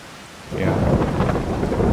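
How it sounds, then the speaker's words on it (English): Rumbling thunder from a storm in Farming Simulator 22, swelling abruptly after a quiet half second into a loud, sustained roll over steady rain hiss. "Right in the middle of the thunder. Bring the thunder."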